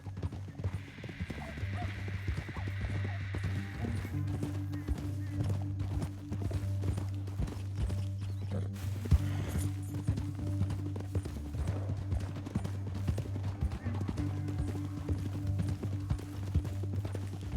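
Horses in Red Dead Redemption 2 moving at speed, steady rapid hoofbeats with an occasional whinny over a droning game score, loud and continuous throughout.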